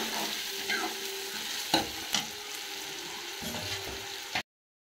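Sliced onion browns in oil for a lingad sabzi, giving a continuous close sizzle broken by a few sharp spatula knocks and scrapes against the pan before stopping suddenly.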